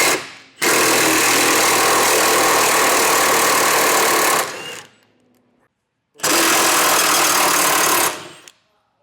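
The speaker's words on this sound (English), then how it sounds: "we're just going to take a 15mm socket and get this thing backed off and out of the way." A power driver with a 15mm socket backs out a loop bolt on a 2019 Ford Transit T250 being fitted with a Class III trailer hitch: two loud, close whirring bursts, about four and two seconds long, separated by a short pause.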